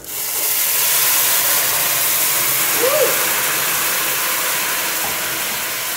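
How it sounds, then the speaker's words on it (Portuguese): Water boiling in a pot in a rural home kitchen gives a steady, fairly loud hissing roar that holds constant, with a brief faint voice-like tone midway. "eu já tenho uma água fervendo aqui"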